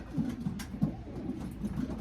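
A racing pigeon from a one-loft race coos in soft, repeated low notes, close by, with faint background noise and no talk.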